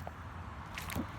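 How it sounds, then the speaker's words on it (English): Feet in water shoes wade through cold floodwater, giving a soft squish and slosh with a faint drip, close by over a steady outdoor background. "This literally is a fully immersible cold water walk"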